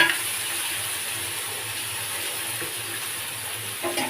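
Pomfret fish frying in a pan with nigella seeds, green chilli, garlic paste and onion paste, giving a steady, close hiss of sizzling oil that holds at an even level with a small bump near the end.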